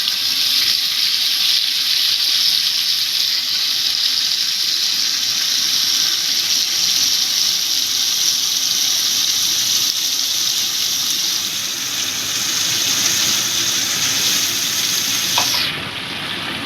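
Tap water running steadily to rinse out a mixer grinder jar, a continuous close splashing flow that stops abruptly near the end.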